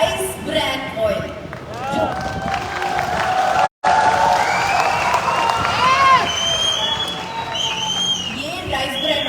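An audience at a talk on rice bran oil breaks into sustained applause and cheering, loud and close, continuing for several seconds with a brief cut in the middle.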